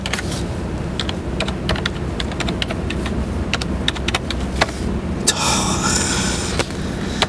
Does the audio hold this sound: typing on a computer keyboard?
yes